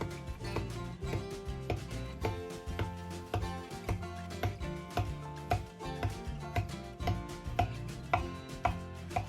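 Steady, rapid knife strokes score duck breast skin against a cutting board in a continuous rhythm, crisp and close, with no talking.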